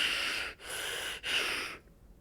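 A voice imitates a firefighter breathing through a breathing mask: three loud, hissing, airy breaths in a row, close up, each breath separated by a brief pause before trailing off into quiet.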